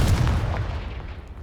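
A Confringo blasting spell in Hogwarts Legacy strikes a pile of debris, giving one loud boom at the start that rolls off into a fading rumble.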